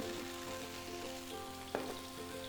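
Chicken stir-fried in a pan for chili paste chicken: steady, faint sizzling and crackle of frying, with a single clack of a utensil against the pan partway through.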